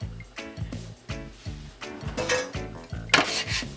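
Plates, pots and cutlery clatter and clink in a kitchen while Jamaican curry beef is dished up, a string of close, irregular knocks and scrapes building to brighter clanks near the end.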